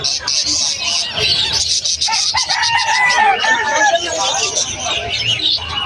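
Chickens and roosters crow and cluck loudly and close by at the Malabon pet market, overlapping calls filling the air while people talk nearby.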